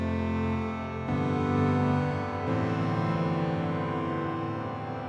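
A Sonicware Texture Lab granular effects processor in infinite reverb mode produces a dense, sustained wash of layered tones that swells and shifts in two steps, held continuously at moderate level with no voice.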